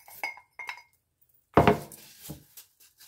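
Cooked rice poured into a pot, a few light clinks and knocks of cookware followed by a louder thudding scrape, close and sparse with quiet gaps between sounds.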